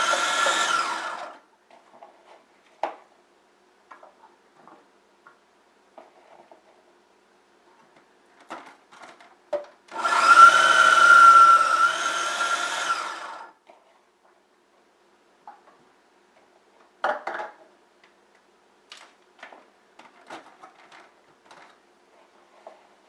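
Food processor chopping cauliflower for low-carb faux fried rice, heard as a short whir at the start and then a loud, close three-second burst of motor noise, with quiet knocks and clatter in between.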